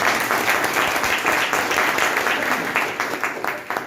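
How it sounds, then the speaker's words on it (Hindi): An audience at a business meeting claps hard in a sustained burst, dense and even at first, then thinning toward the end as single claps begin to stand apart. "एक बार जोरदार तालियां बजाइए।"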